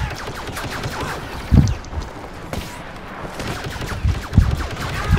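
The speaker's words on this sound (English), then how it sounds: "Yeah, I'm getting shot by him." Blaster fire in the video game Star Wars Battlefront, a busy run of sharp shots and bursts with a few louder hits, layered over a steady game background with no talk.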